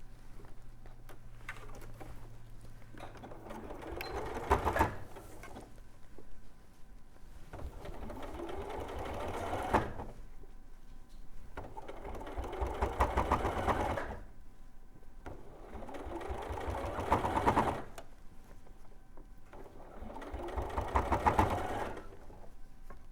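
A sewing machine stitches pieces of a Gracie Rabbit toy and Mina Love Bird kit, running in five steady bursts of several seconds each, with short pauses between them as the fabric is turned.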